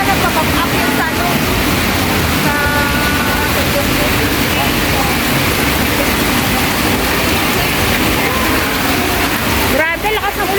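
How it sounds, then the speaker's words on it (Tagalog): Heavy rain pours in a dense, constant roar on Orchard Road, Singapore, with brief faint voices breaking through now and then. "lakas ng ulan"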